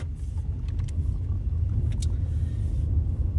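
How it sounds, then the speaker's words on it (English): An automatic car pulls away out of a right turn at a junction, giving a steady low engine rumble heard from inside the cabin with a few faint clicks above it and no voices. "Back onto the accelerator again"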